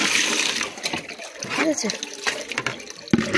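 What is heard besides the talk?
water pouring in a bathroom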